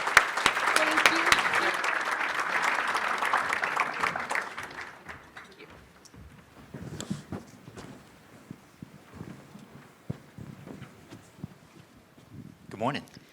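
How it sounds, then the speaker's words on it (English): An audience at an education conference applauds a panel with loud, dense clapping for about four seconds. The applause then fades into scattered claps, footsteps and shuffling as people move to the stage. "let's give this first panel a round of applause to set our day"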